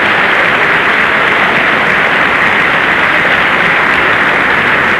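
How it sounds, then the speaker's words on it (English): A packed armory crowd on election night in 1960 claps thunderously, a dense, loud wall of applause that continues without letup throughout. "they are contributing mightily to the applause."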